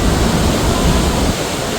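Vernal Falls in Yosemite pours in a loud, steady broadband roar of rushing water heard close by, with constant hiss and no talking.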